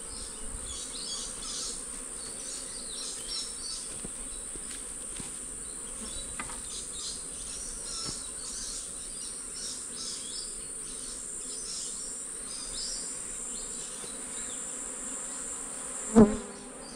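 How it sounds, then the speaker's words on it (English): Honey bees in an open beehive during inspection make a dense, steady buzzing drone that continues unbroken throughout, close up, with one brief sharp knock near the end. "bees are just starting to fill it out"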